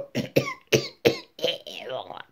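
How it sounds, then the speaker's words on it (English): A run of four sharp, tickly coughs in quick succession, close up, trailing into a rough throaty exhale. "I had that funny tickly cough tonight"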